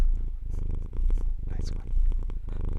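A contented cat purrs in a low, steady rumble close to the microphone, pulsing softly throughout while people talk over it.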